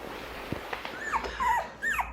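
Three-week-old puppies whimpering, a few short high-pitched whines and yips close by over faint background noise, no talking.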